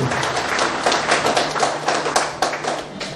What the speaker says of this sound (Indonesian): Tepuk tangan dulu buat Bapak Tumbur Napitupulu.